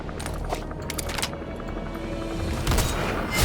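Gunfire rings out in Metal Gear Solid V: The Phantom Pain, a series of booming shots and bursts over a dense game background, growing louder toward the end.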